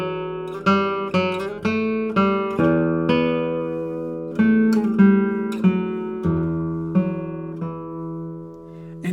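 A 1992 Matthias Dammann classical guitar plays a slow series of deep bass notes, each plucked attack ringing out and decaying, close and clear with no talking.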